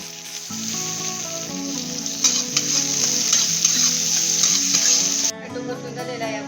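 Onion and tomato frying in a pan, with a dense, steady sizzle that carries on close up before dropping slightly near the end.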